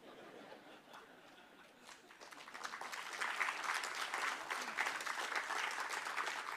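An audience at an economics talk in India claps, the applause starting scattered and quiet and then swelling into steady, continuous clapping from a crowd.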